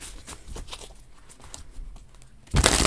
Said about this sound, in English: These needed a good shuffle for you, Dustin.